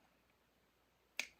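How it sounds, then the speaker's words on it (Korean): One sharp, hard hand clap close by, a brief loud crack after near silence, given by a speaker during a talk. "너무 세게 쳤죠, 박수를"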